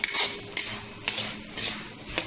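Peanuts, roasted chana dal and garlic pods frying in a pan, heard as a soft sizzle with five distinct scraping stirs spaced about half a second apart, close and fairly quiet.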